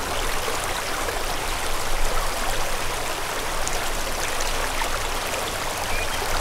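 A small stream flows steadily nearby, water gurgling and trickling over rocks in a constant, even wash with no voices.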